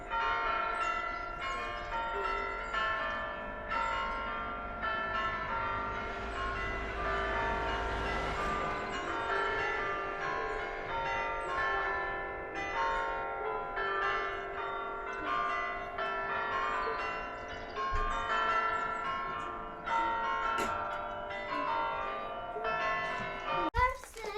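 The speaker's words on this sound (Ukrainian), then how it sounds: "Це дзвони кличуть на месу." Church bells ringing out to call people to Mass on a Sunday, heard steadily from some distance for a long stretch, with a voice speaking over them at times.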